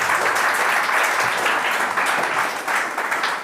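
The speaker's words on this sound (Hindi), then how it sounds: "जोरदार तालियां" Loud, sustained applause from an audience at a Children's Day honouring ceremony at a refinery township service centre, a dense steady wash of clapping that barely dips across its length.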